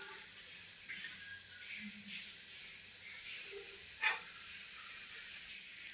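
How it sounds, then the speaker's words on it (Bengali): Potato balls fry in hot oil with a steady, faint, high sizzle that runs nearly unbroken, broken by a brief sharp pop. "দিয়ে উলট পালট করে ভেজে নিচ্ছি"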